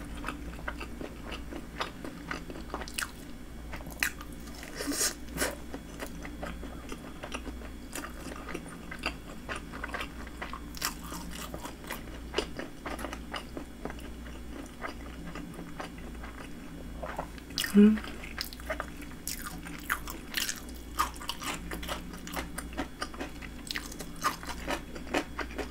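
Someone eats salmon inari sushi, fried tofu pockets filled with onion sauce and topped with mayonnaise, producing soft close-up bites and steady wet chewing, quiet and continuous, with no talking.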